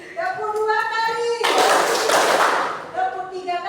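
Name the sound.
children clapping hands twice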